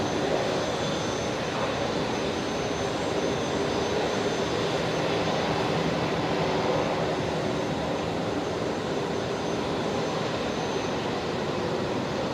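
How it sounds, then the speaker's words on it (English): An Airbus A220 jet takes off at Brisbane Airport, its engines a steady, broad roar that holds loud and unbroken throughout, with no voices over it. "the green A220, lined up, ready to go there"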